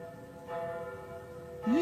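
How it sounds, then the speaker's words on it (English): Church bells ring across London during the Great Fire of 1666, a steady, sustained metallic toll with a brighter swell midway and a rising tone at the end. "Bells are ringing from every church in the city."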